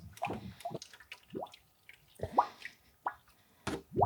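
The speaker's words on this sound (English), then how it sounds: "I'm just gonna get my gallons of mix and pour it straight into the hopper" Soft serve mix pours from a gallon container into the hopper of a Carpigiani 920 P ice cream machine, making irregular close glugs, splashes and plops of liquid with brief pauses between.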